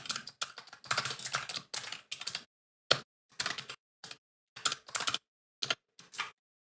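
Code is typed on a computer keyboard in quick close bursts of clicking keystrokes, separated by short silent pauses, with several isolated single taps near the end and no voices.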